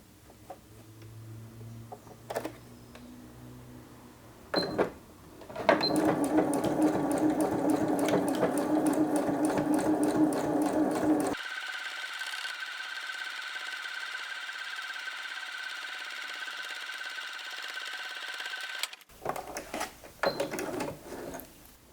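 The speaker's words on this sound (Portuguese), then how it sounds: "vou passar um pezinho aqui de máquina para poder fazer a segurança" A sewing machine runs steadily for several seconds, stitching a security seam on a fabric triple pencil case, with a shorter, higher-pitched run of the motor afterward and quieter handling noises before and after.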